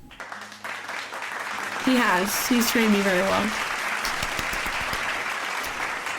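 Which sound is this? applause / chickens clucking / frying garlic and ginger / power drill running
applause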